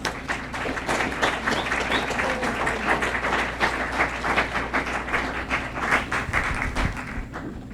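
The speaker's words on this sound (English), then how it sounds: "Please give a round of applause" Audience applause at a conclave greeting a speaker, sustained rhythmic clapping from a seated crowd, moderately loud and even throughout, with no talking over it.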